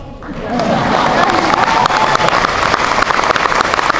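Large audience bursts into applause with some cheering, rising quickly from a speech moment into a loud, sustained crowd roar of clapping.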